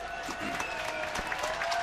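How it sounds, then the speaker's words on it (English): Spectators at a lacrosse semifinal in the Aleš Hřebeský Memorial tournament applaud an injured player getting back up, a steady, dense wash of clapping from the crowd throughout. "we can give him a round of applause"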